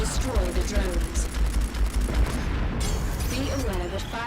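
Rapid bursts of spaceship cannon fire in Strike Suit Zero: Director's Cut, with booming impacts and sci-fi effects, loud and continuous, mixed with game sounds throughout.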